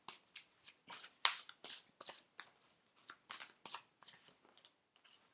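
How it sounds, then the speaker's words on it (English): Unicorn oracle cards being shuffled by hand in quick, close riffling bursts, about a dozen short crisp flurries separated by brief pauses, with no talking. "Now I'm going to pull some unicorn cards."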